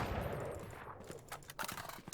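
Gunfire from a weapon in the video game Valorant, heard as a quick burst of shots that fades out, then a few sharp taps near the end.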